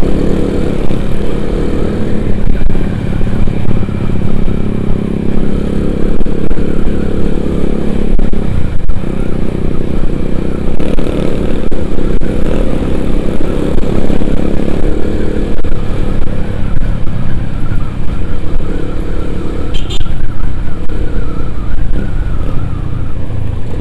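Honda Tiger motorcycle engine ridden at night, a loud continuous roar close to the microphone that holds steady with slight rises and falls for the whole stretch, with no talk over it.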